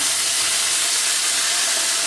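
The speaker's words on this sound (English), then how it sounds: "I'm going to take some of the beef broth that I got sitting right here, just a little bit of it, and I'm going to pour it in," Beef broth hitting a hot pan of seared beef tips and mushrooms, a loud, continuous steaming hiss and sizzle that fills the whole moment with no talk.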